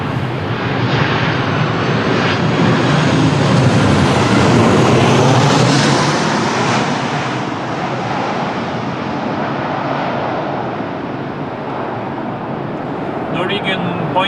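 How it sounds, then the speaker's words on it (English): Norwegian Boeing 737 arriving at Lisbon Airport from Stockholm on a windy day, a loud jet roar that swells, then eases into a softer rumble, with voices talking nearby. "Norwegian Boeing 737. All the way from Stockholm."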